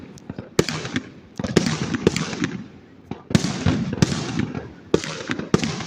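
Independence Day fireworks burst in a string of sharp explosions with crackling and rumbling in between, about ten loud bangs over several seconds.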